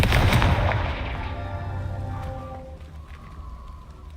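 Spells cast in the Hogwarts Legacy video game: a loud blast at the start fades into a rumbling, ringing tail over a few seconds, with no talking.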